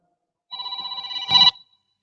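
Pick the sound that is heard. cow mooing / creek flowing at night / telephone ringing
telephone ringing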